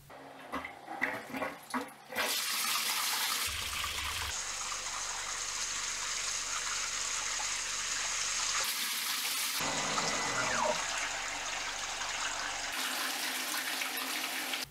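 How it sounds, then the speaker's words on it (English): Coolant pouring and splashing over a running CNC milling machine, a continuous close watery gush with abrupt changes in flow and spray after a few initial clatters, no voices. "Now I want to show you how it looks with the coolant on."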